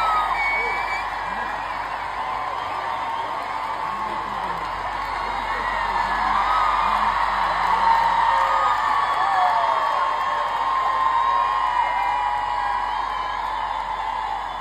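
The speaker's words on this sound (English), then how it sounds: "erupted into thunderous applause and cheers that seemed never-ending" A huge stadium crowd at a Zurich concert roars with sustained cheering, whooping and applause, a dense, loud wall of sound that never lets up, with shouts rising out of it.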